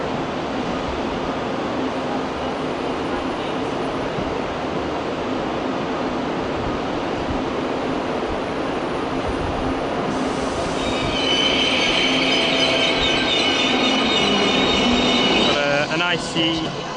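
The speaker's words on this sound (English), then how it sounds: "we've got an ICE arriving in from Berlin" ICE train from Berlin rolling into Köln Hauptbahnhof, a broad steady rumble of wheels on track that swells near the end as high brake and wheel squeal rises, loud and close on the platform.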